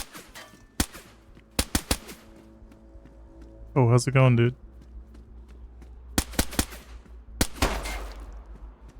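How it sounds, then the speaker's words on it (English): Sharp gunshots crack out in the DayZ video game, several isolated reports spaced irregularly with one near-simultaneous pair, amid ambient game noise, while someone talks briefly between shots. "Gunshots?"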